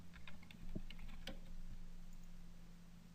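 Typing on a computer keyboard, a short burst of scattered key clicks in the first second and a half followed by quiet hum, faint and close.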